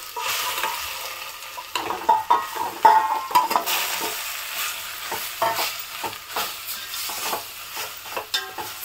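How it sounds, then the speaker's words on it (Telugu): Grated ash gourd fries in ghee for kashi halwa, a steady close sizzle with repeated scraping stirs and clinks of a spoon against the pan, no voices. "ఇప్పుడు ఇదే నెయ్యిలో మనం ఏదైతే గుమ్మడికాయది తురుము తీసుకున్నామో అది కొంచెం ఫ్రై చేద్దాము"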